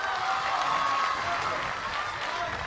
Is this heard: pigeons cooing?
no